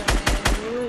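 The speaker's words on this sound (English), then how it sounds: "I'm shooting that tree down." Three rapid gunshot bursts from Fortnite gameplay, fired at a tree, each a sharp loud crack with low thump, evenly spaced within a second, followed by a faint steady tone.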